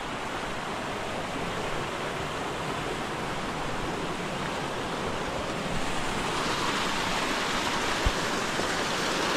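Loud, steady roar of a hidden waterfall pouring down at a camping spot, a dense continuous rush of water with no break, close and filling the whole scene.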